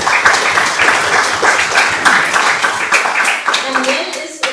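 Audience applause at a staged political discussion event, dense steady clapping filling the room, tapering near the end while a voice speaks over it.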